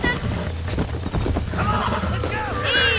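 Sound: horse hooves and whinny, from the video game Red Dead Redemption

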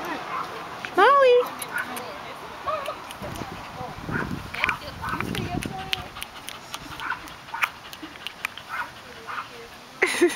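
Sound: dog whimpering and yipping

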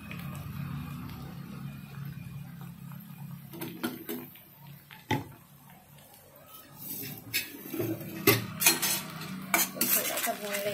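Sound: stir-frying sprouts with sauces in a pan

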